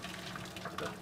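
Hot water is poured into a cup over noodles, a steady close splashing stream filling the container for a brief moment.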